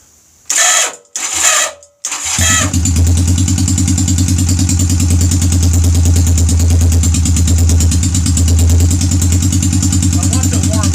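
A Honda Rebel motorcycle with a carburetor fault cranks in a few short loud bursts, then catches and idles steadily with a fast, even low-pitched chug and mechanical clatter, close and loud.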